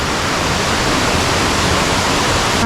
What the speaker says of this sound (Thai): ก็แนะนำน้ำตกตาดทองนะครับผม